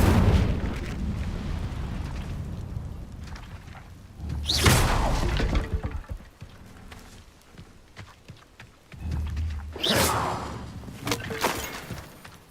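Fire spell bursts in Hogwarts Legacy, two loud whooshing blasts a few seconds apart, each rising sharply then trailing off over a steady low game ambience with soft footstep-like clatter between them.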